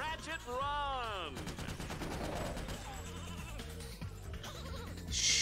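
Sheep bleating inside the Ratchet: Deadlocked game on PS3, a wavering harmonic bleat near the start with loud gunfire and game effects continuing under it.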